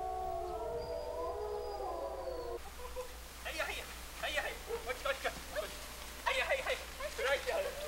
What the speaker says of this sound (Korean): 농장의 하루는 늑대들의 울음소리로 시작된다.